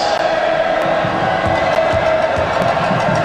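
A packed arena crowd roars and cheers continuously and loudly at a 1986 Villanova–Maryland college basketball game, a dense sustained wash of voices.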